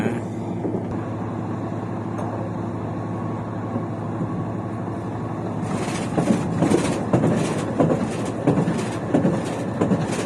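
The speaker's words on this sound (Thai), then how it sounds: "เราก็เดินทางโดยรถไฟ ใช้เวลาเดินทางประมาณ 3 ชั่วโมงครึ่ง ก็จะถึงจุดหมาย" A passenger train runs along the coast toward Scotland, a steady rumbling interior drone with rhythmic clacks building louder in the second half, with no voices.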